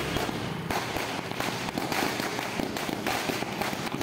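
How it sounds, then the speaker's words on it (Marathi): A string of firecrackers set off at a shop's opening ceremony rattles in a dense, continuous burst of loud, rapid pops from start to finish, with no voices. "फटाक्याची माळ इथे लावण्यात आलेली आहे"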